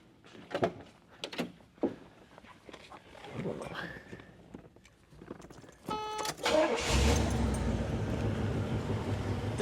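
A classic Pontiac 455 cubic inch 7.5 liter V8 with a 3-speed automatic: a few knocks and clatter come first, then the starter whirs and the engine catches into a loud, steady rumble.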